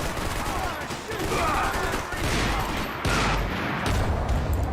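Sustained bursts of gunfire and rattling automatic shots from a Max Payne 3 firefight, loud and dense, with brief shouted voices mixed in.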